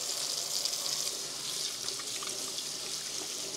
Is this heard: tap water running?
yes